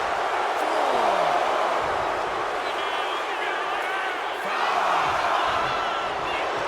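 An arena crowd cheers in the WWE 2K25 wrestling game: a dense, continuous roar that swells louder near the end, like a packed stadium heard from ringside.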